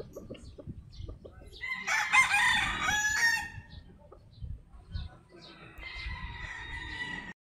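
A gamefowl stag rooster crows loudly at a game farm, with a long strained call in the middle and another fainter crow near the end, over soft clucking and farmyard noise.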